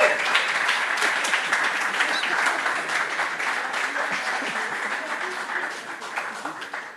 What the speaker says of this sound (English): I would like to have our MCs stand up for a round of applause.